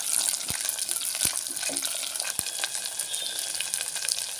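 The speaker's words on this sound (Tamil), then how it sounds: "ரெண்டு கைப்பிடி அளவுக்கு சின்ன வெங்காயம் போட்டு நல்லா கலந்துக்கிடுங்க நல்லா வதங்கி வரட்டும்" Small onions frying in a pan for a Tamil-style colocasia kara kuzhambu, a steady close sizzle with a few sharp utensil clicks as they are stirred, no voices.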